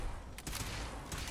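Sustained gunfire in Fallout 4, a dense continuous burst of shots filling the short stretch at steady loudness, with brief louder cracks layered over the barrage.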